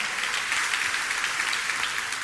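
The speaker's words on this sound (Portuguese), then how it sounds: "Pode dar uma salva de palmas ao Senhor" A church congregation applauds at a worship service, a steady, dense wash of many hands clapping throughout, with no speech over it.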